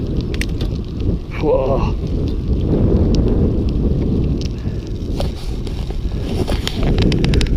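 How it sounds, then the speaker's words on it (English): A restored Castello Vetto bicycle ridden outdoors through gear changes, with steady wind buffeting and road rumble throughout and a single short exclamation from the rider partway in. "Let's go for another gear."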